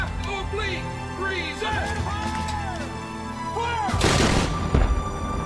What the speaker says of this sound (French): Le général Colborne ordonne à son artillerie de bombarder le repère des patriotes.